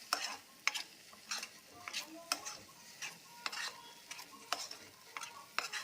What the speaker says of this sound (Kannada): ನೋಡಿ ಕುದೀತಾ ಇದೆ.